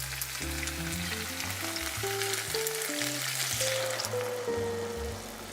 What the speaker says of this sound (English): put it in your risotto, and you're going to stir it patiently until it's all absorbed